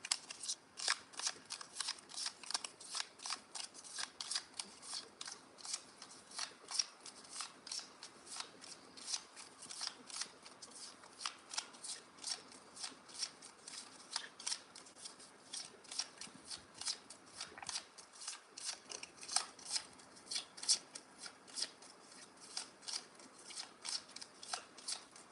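Tarot cards shuffled continuously and close up, a steady rhythm of crisp papery riffles and slaps running throughout without pause.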